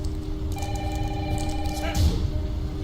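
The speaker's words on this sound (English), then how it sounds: "Mom, phone." A telephone rings with a steady electronic trill through about a second and a half, heard over a constant noisy background with people talking nearby.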